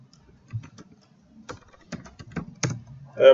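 Light keystrokes on a computer keyboard come in short irregular bursts, soft and close, with quiet pauses between clusters of taps.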